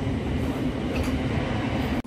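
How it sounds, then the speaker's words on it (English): A train at a UK railway station gives off a steady, loud rumble with a faint high squeal partway through, heard alone without voices. "we've just got off our first train, and we're just waiting for our second train"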